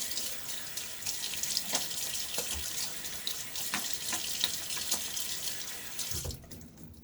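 Tap water runs steadily into a sink to rinse a shave done with a Gillette Tech safety razor, a continuous close hiss with small splashes that cuts off abruptly near the end.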